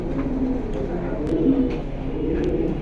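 Pigeons at a bird sale cooing continuously close by, a layered low murmuring coo from several birds, with faint background clatter.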